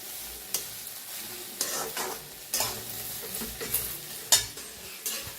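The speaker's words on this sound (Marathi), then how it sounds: "असं छान भाजून घ्यायची बघा गवारी" Cluster beans roasting in a pan crackle softly under regular stirring, a spatula scraping and knocking about once a second over a constant faint sizzle.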